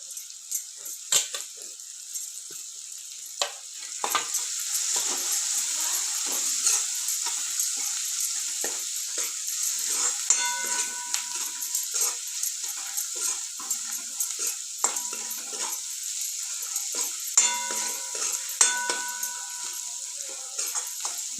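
Turmeric and coriander sizzling in hot oil in a frying pan, a steady bright hiss with scattered clinks and scrapes of a spoon stirring, close and unbroken, without any voice.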